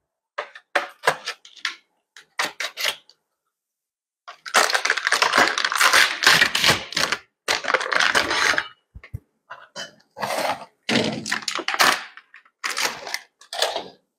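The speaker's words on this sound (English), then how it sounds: "When we fit them, take them out of the cellophane." Clear cellophane wrapping crinkles and tears as BMW R1300GS radiator guards are pulled from their packaging, close and loud, in bursts of rustling with short pauses between.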